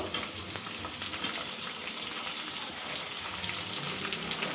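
Steady, crackling sizzle of onions frying in hot oil for tomato chutney, close and continuous, with faint stirring and no talking.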